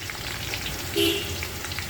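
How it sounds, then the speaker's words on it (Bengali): A large batch of sliced onions fries in hot oil for beresta, giving a steady, dense sizzle close by with no talking. "এখন পেঁয়াজটা ভেরেস্তা করে রেখে দিব।"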